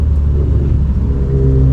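Toyota MR2 Spyder with a 2ZZ-GE engine driving a tight, twisty road through a redwood forest, its engine giving a loud, steady rumbling drone heard from inside the car.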